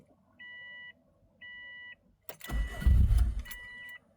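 Two short electronic beeps sound from a car before its engine cranks with a brief rough churning burst. The car's fuel pump is priming and the engine does not catch, and a third tone chimes at the end.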